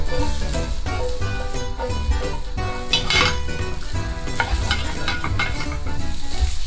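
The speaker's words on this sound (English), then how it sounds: "when the guanciale is starting to roast up, we're gonna let it cook for about 2 more minutes" Guanciale fries loudly in a pan, a dense crackling sizzle punctuated by the scrape and clatter of stirring, close and continuous with no talking.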